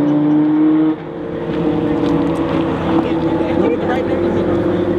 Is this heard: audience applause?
no